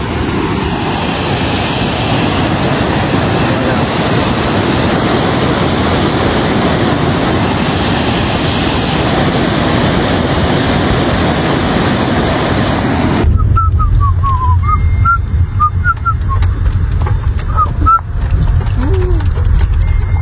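A steady roar of rushing water from a waterfall at Mahabaleshwar fills the scene, loud and continuous, with wind buffeting the microphone before the sound abruptly thins out.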